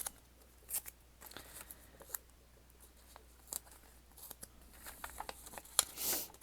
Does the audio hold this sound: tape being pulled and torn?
yes